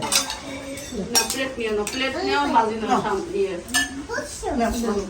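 Plates, dishes and cutlery clatter and clink close by as a family meal is served at home, with voices talking over the irregular knocks and scrapes.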